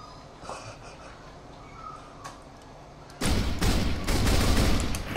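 A user-made gun fires in Voxelnauts, a sudden loud burst of rapid shots cutting in after a quiet stretch and continuing as a dense volley to the end.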